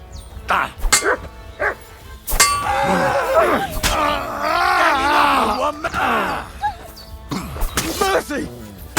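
A dog barks and growls in the medieval game Kingdom Come: Deliverance II, with loud angry shouting and groans over the commotion throughout.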